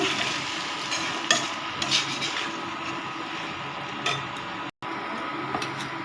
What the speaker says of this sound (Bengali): এর মশলাটা কষবো